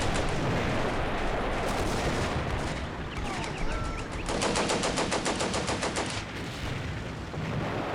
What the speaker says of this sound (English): I think they're using both of their artillery to shell us.